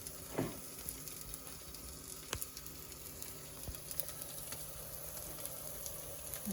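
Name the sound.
sweet potato and tuna patties frying in a pan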